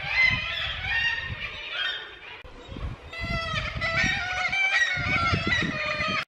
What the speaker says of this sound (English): found this really cool sea arch full of seagulls. You can hear them go.